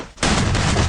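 Loud, continuous gunfire from a 1 vs 1 headshot-only shooting video game match, bursting in abruptly after a brief quiet and sustained close and dense to the end.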